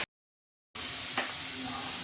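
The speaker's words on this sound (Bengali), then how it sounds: "চল ফ্যানটা ঝেড়ে নিই।" Starchy water is poured off a pot of freshly cooked rice in a home kitchen, making a steady hissing splash that starts after a brief silence and continues evenly to the end.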